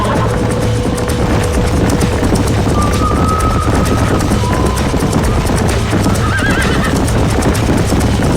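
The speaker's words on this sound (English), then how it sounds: "These are fine horses." Horses in the video game Red Dead Redemption clip-clop steadily throughout with a couple of whinnies rising over the hoofbeats, loud and close, with no talking.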